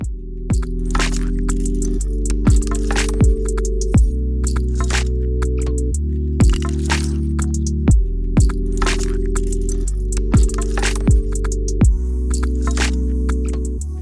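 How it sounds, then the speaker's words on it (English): A CNC machine cuts the backs of shop sign letters, a loud steady low hum with tonal steps that shift every second or two, punctuated by sharp cutting clicks, with no talk. "So here's CNC making the backs of the letters."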